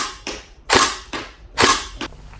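Tokyo Marui SCAR-L airsoft rifle with an upgraded gearbox firing single shots, sharp snappy cracks of recoil spaced unevenly, with louder and softer reports, close and loud with no talking.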